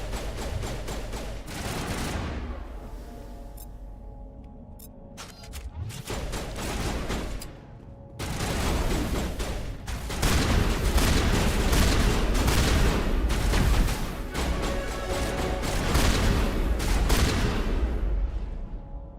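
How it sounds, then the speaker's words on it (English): Sniper rifle shots in Mass Effect Legendary Edition, loud sharp cracks in bursts over continuous combat noise and gunfire, close and heavy. "Wow, that sniper rifle is loud."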